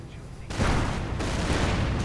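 Gunfire and sniper shots in a World War II real-time strategy video game: a dense, loud burst of rattling shots kicks in abruptly and rolls on continuously, with a slight shift partway through.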